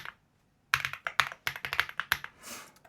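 Fingers type on a computer keyboard, a quick irregular run of close, crisp key clicks after a short pause, ending in a softer brushing sound.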